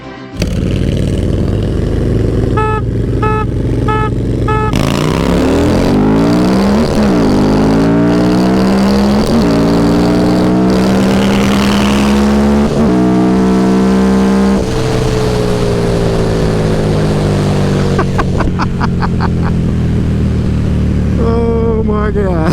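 A 2017 Harley-Davidson V-Rod Night Rod and a Lowrider S race head to head from a roll, with loud, close engine roars climbing through gear after gear and falling between shifts, a brief shout heard over the noise.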